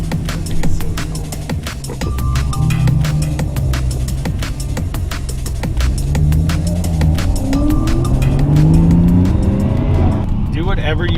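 Toyota JZX100 driven hard while drifting, its engine droning loud and steady with rising revs and tyre noise throughout, heard from inside the car under ongoing talk.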